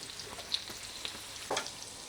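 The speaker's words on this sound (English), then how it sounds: "the rest of the onion and the garlic. Let it saute until it's translucent." Chopped onion and garlic sautéing in a pan, a soft continuous sizzle and crackle with a few brief sharper pops and stirring clicks, heard close up without any talking.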